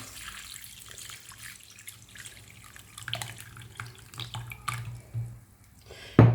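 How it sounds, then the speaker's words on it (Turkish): Water from a tap runs and splashes into a pot of dried apricots being prepared for homemade jam, a steady moderate pour with a few drips and a sharper clink near the end, no voices. "Önce suyunu ilave ediyorum."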